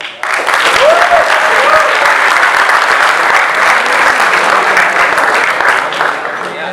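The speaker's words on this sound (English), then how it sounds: "another round of applause for Abhinav Tripathi" A crowd at a university roast event claps loudly and steadily, a dense sustained burst with a few whoops early on that fades slightly at the end.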